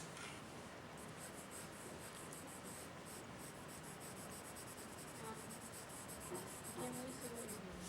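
Graphite pencil shading across drawing paper, a faint, close, steady scratchy rubbing of repeated strokes that runs continuously with no talk.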